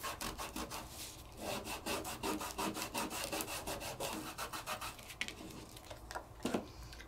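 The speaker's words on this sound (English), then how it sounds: "so I'm going to give it a little bit of a burnish" Glitter paper burnished over Stacey tape with steady back-and-forth rubbing strokes, a rhythmic rasping scrape repeated many times at close range, quiet and alone.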